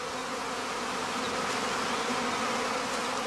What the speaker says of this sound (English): the casts increasingly tend to collect directly at the stand or in the immediate vicinity.